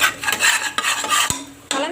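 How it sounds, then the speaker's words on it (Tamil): A spice mixture with salt is stirred into oil in a pressure cooker for egg biryani, giving close, rasping scrapes of a spoon against the metal pot in short repeated strokes. "இந்த ஆயிலில் நல்லா மிக்ஸ் ஆகிற மாதிரி நல்லா கலந்து விட்டுருங்க"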